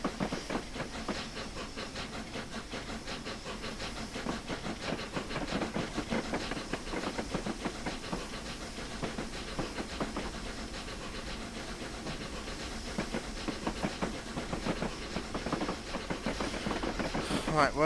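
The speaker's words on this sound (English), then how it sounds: "we better get back to my train, which is moving" Flying Scotsman steam locomotive moving on a model railway layout, giving a steady broadband hiss of steam with a continuous rhythmic chuffing texture throughout, fairly loud and close.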